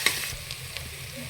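Green chillies and ginger garlic paste frying in a pan for jackfruit biryani, a short close sizzle with a couple of soft stirring clicks.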